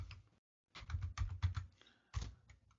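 Quick bursts of keystrokes on a computer keyboard, close and fairly quiet, with short pauses between clusters of typing.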